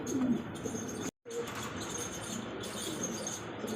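Indonesian fancy pigeons coo softly a few times close by, with a brief dropout of sound partway through and faint background noise around them.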